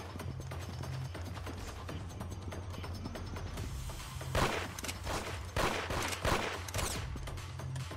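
Gunfire in the Roblox game Arsenal: several bursts of sharp shots in the second half over a steady, busy game-sound bed, with no talking.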